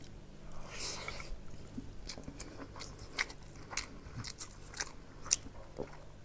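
Fish bhuna made with rubbed green chilies being eaten with rice, heard as close, soft chewing and crunchy bites in an irregular rhythm against a quiet background.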